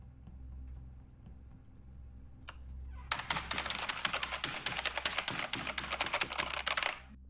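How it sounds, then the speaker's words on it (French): Rapid computer keyboard typing mixed with mouse clicks, a dense clattering burst that starts abruptly after a few quiet seconds of low hum and continues loud and close until it stops near the end. "ce qui me trigger, c'était clic de souris et de clavier"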